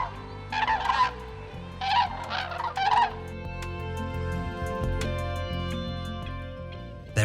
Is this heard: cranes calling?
yes